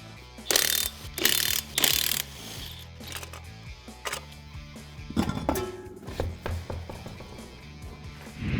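A hand ratchet works on the lower control arm bolts of a 2021-2022 Ford Bronco, giving bursts of rapid clicking at first, then scattered quieter clicks and metallic clanks, close and with no talking.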